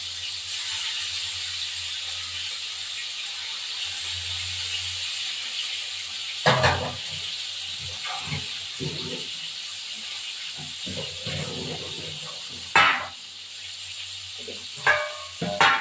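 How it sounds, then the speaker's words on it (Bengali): Bhola fish frying in hot oil gives a steady, close sizzling hiss, interrupted by a few sharp crackling bursts as it cooks. "এই যে ভোলা মাছ তেলের মধ্যে দিয়ে দিলাম। তেলটা গরম হয়ে গেছে"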